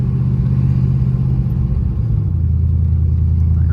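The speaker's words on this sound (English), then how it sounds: "We're gonna move the Mustang over. Take old girl around the block and park it up front." A Ford Mustang engine runs steadily at low idle, a deep loud rumble that shifts slightly in pitch as the car is moved.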